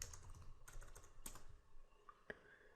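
Typing on a computer keyboard, quiet key clicks tapping in short irregular bursts with a few louder isolated strokes, close by and alone without talk.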